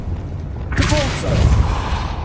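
A Depulso spell striking in Hogwarts Legacy, heard as a sudden booming whoosh after a quiet moment, followed by a rumbling tail layered with game effects.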